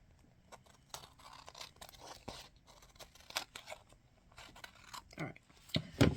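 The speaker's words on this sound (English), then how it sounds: "my scissors don't want to cooperate" Scissors snip and scrape in short, irregular cuts at close range, fairly quiet, with a few sharper crunching snips near the end.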